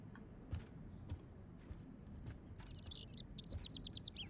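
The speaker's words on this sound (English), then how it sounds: "can you help me get this bird out of here?" Bird trapped indoors in the Life is Strange video game, chirping in quick high twittering bursts that start faint and grow louder and busier toward the end, over low room ambience with a few soft thumps.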